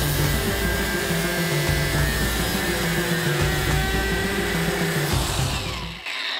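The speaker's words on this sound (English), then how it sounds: "Here's this 54 volt. These are using exactly the same discs in both angle grinders." A Dewalt 54V FlexVolt angle grinder cuts through 3/4 inch rebar, a loud, continuous high-pitched whine and grinding roar that holds steady for several seconds before cutting off abruptly at the end.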